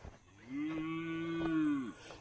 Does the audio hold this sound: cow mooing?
yes